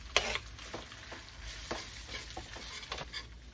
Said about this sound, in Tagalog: So, prito natin yung ham.